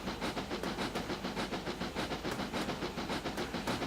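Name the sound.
steam locomotive on a Welsh narrow gauge railway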